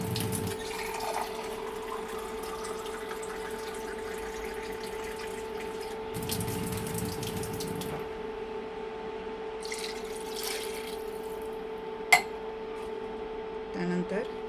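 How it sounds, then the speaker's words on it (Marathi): Two glasses of water are poured over oil-fried mutton chops in a pressure cooker pot, giving faint splashing and dripping over a constant background hum, with a couple of louder pouring bursts. "आता ह्याच्या अर्धा किलो मटन चॉप्स करता आपण 2 ग्लास पाणी ह्याला घालणार आहोत."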